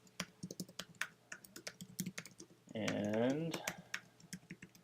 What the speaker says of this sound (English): you type in the username here, and you type in the email address